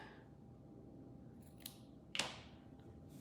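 Scissors snipping drawstring ends on a pair of sewn joggers, two quick close cuts with the second sharper and louder, set against a quiet room hum.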